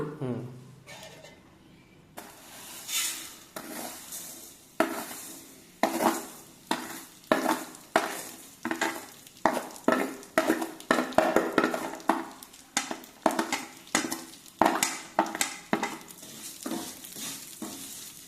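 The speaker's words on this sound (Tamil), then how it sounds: "லைட்டாக வறுத்துக்கலாம் போதும். ரொம்ப வறுக்க வேணாம், லைட்டாக வறுத்தா போதும்." Vermicelli is stirred as it lightly roasts in a pan for coconut milk payasam. A steady run of rhythmic scraping strokes sounds against a soft sizzle, up close and even.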